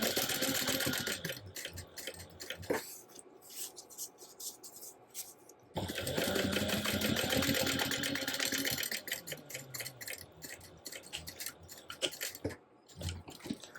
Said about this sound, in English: I'm going to take these side panels and I'm going to pull them away and top stitch 1/8 of an inch away from the seam allowance down the side panel